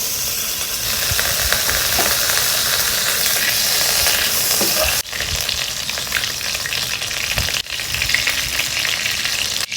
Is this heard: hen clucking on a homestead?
no